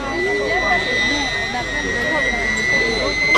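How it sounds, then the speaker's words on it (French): A Fouga Zéphyr jet trainer, just landed at Avignon-Caumont during an air show, gives off a steady whining turbine tone with a broad engine roar beneath, sustained and fairly loud, with crowd or commentary murmur mixed in. "Voilà notre Zéphyr basé ici à Avignon, Caumont, qui vient de se poser"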